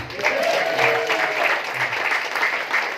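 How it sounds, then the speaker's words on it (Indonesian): Steady applause from an audience, a dense wash of clapping that holds at an even level for a few seconds, with a faint tone briefly underneath. "Boleh tepuk tangan buat Bu Rosi"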